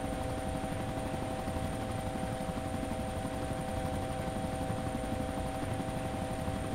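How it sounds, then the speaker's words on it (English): Steady drone of a helicopter in the ARMA 2 video game, a continuous rotor and engine hum with a constant whine, loud and unbroken with no talking. "The chopper offers me protection as a pilot."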